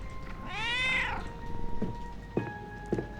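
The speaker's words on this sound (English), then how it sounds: "Let's say goodbye to the cat. Oh, hello, Marlene. Pet the cat." A cat in the video game The Darkest Files gives one clear, drawn-out meow up close, followed by a few soft taps and clicks over a low, steady background hum.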